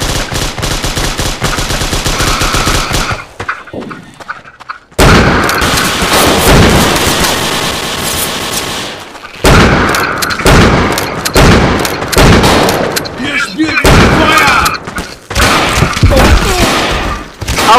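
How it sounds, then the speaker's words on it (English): Gunfire roars through a Dino D-Day match, with loud, dense rapid shots and heavy blasts, including a shotgun, continuing almost nonstop apart from a brief lull. "Let me run up on you with a shotgun."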